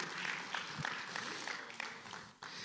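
A church congregation applauds during a Spanish-language service, a dense wash of clapping with some voices mixed in, fairly close and sustained before tapering off.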